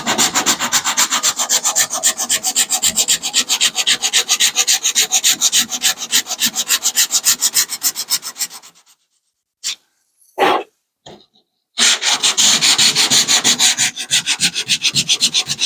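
Sanding body filler smoothed over a dent in a car's rear quarter panel: steady, close, rhythmic scraping strokes for about nine seconds, then a pause broken by a few short rubs before the continuous sanding resumes.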